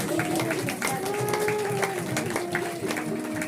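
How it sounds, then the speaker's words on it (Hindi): Applause from a congregation at a Christian prayer meeting, steady dense clapping throughout with a voice speaking over it. "तालियों से स्वागत करती हूँ।"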